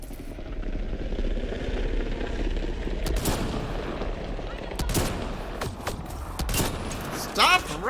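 Rapid bursts of gunfire in the Mass Effect: Andromeda video game on a frozen planet, sharp cracks scattered over a constant mechanical rumble, with a few louder shots clustered in the middle.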